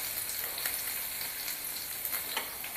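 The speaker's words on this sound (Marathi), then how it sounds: "ठेचलेला लसूण आहे तो घालायचा आहे," Crushed garlic and cumin sizzle in hot oil in a pan for a Marathi-style dahi tadka, giving a steady, soft crackling hiss with small pops, close and fairly quiet, with no talking.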